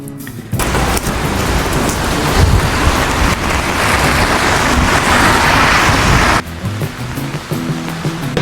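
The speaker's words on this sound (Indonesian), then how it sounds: "terus sekarang juga hujan, di luarnya beneran hujan" Heavy rain falls outside in Japan, a dense, loud, steady hiss that continues without a break, briefly dropping in level near the end.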